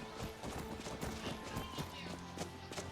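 A horse's hooves clip-clop in a Skyrim-style fantasy video game, a quick repeated rhythm of hoof strikes over a bed of game music and ambience, fairly close and clear.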